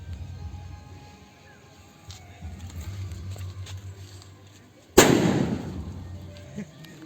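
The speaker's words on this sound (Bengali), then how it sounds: "অরিজিৎ একটা বাজি ফাটাও" A firecracker set off by young men at a riverside Mahalaya gathering, one sharp loud bang near the end after a stretch of low background murmur and rustling.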